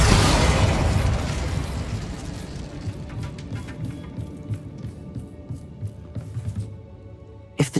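An Incendio fire spell cast in the video game Hogwarts Legacy bursts with a loud, deep blast, then fades into scattered crackles and pops that end in a final sharp hit.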